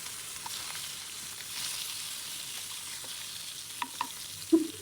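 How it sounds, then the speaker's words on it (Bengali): Fish is turned over while it fries in hot oil. A continuous sizzle carries on under a few light utensil clicks and ends with a louder knock. "এখন আমি উল্টাই দিচ্ছি।"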